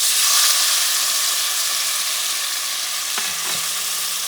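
Sofrito of onions and peppers hitting a hot pot for a Puerto Rican shrimp asopao, a loud, broad sizzle that opens strongly and settles into a steady fry, with a couple of utensil knocks near the end.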